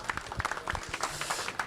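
Audience at a crypto culture dinner event applauding, a dense patter of many hands clapping steadily for under two seconds with faint crowd murmur beneath.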